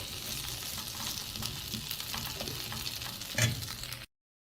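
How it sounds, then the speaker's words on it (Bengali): Jackfruit seeds frying with green chilies in a pan, a steady close crackling sizzle with occasional stirring scrapes and one brief louder clack near the end, no talking. "এই বিচিগুলো আমার খুবই সুন্দরভাবে ভাজা হয়েছে"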